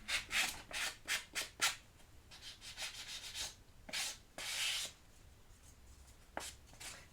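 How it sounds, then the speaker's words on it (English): Hand sanding of rough edges on album pieces, with a run of quick rhythmic rubbing strokes followed by longer, softer passes, close and moderately loud, without speech. "there are some rough edges on these, which I will sand off"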